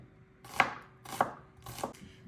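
A knife slices thinly through a red onion on a cutting board, three crisp close chops spaced about half a second apart, each with a brief crunch and short fade, in a quiet kitchen.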